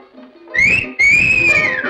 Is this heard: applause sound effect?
no